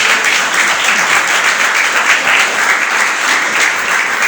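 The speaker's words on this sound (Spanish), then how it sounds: "¿Cuánto le aplauso al Señor?" A church congregation applauds the Lord with loud, sustained clapping from a large crowd, a dense, even roar of hands that neither swells nor fades.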